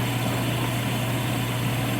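A small lathe running steadily in a workshop, a continuous motor hum with a strong low drone and faint high whine, even and unbroken throughout with no talking.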